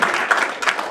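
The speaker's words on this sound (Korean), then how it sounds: "박수 한번." Applause from an audience at a Korea–China venture business forum, steady and dense clapping filling the whole brief moment without pause.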